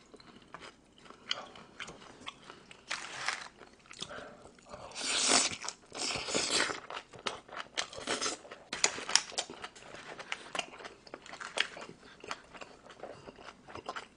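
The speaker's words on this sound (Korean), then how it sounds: "보쌈이랑 김치 이렇게 먹어볼게요" Someone eats bossam pork with kimchi up close, with crunchy bites and moist chewing in uneven bursts, close and fairly quiet, with no talking.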